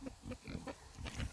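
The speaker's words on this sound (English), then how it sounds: "So many ages of pigs over there." Pigs of many ages grunt on a farm, a cluster of short overlapping grunts and snorts at moderate distance, fairly quiet.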